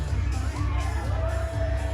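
Wrestling crowd at a packed cage match in Victoria cheering and shouting steadily, a dense roar of many voices with whoops and yells rising throughout.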